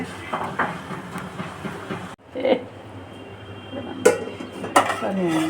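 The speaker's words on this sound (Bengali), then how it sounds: "সিদ্ধ করা আম ছেঁকে নেওয়া হবে এভাবে সুন্দর করে ভালো মতো ছেঁকে নেবেন" Boiled raw green mango is strained out of a metal wok, with clattering metal and utensil knocks, scraping and sloshing at an uneven pace, and a few sharper clanks toward the end.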